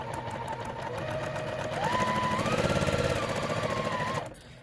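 A sewing machine chain piecing quilt blocks for a Dervish Star pattern at a short stitch length, running in a fast steady whir close up for a few seconds before stopping abruptly.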